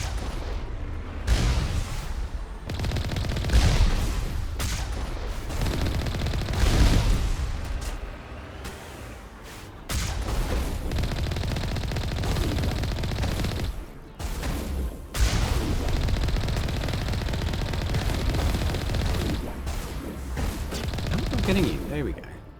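Sniper gunfire in the Mass Effect video game, a busy battle with repeated sharp shots and booms over dense game noise, with people talking throughout.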